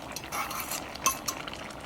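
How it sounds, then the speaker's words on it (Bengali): A spoon stirs pumpkin curry with fish and coriander leaves in a pot, producing soft scraping and wet shuffling with a few sharp metallic clinks against the pot side, close and fairly quiet. "এখন নেড়ে চেড়ে মিশিয়ে নেব।"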